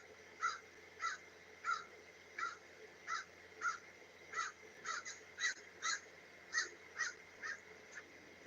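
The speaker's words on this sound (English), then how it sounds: "This bird is not happy about me." A crow caws again and again, about a dozen harsh calls at a steady, insistent pace, moderately close and clear over a quiet background with no talk.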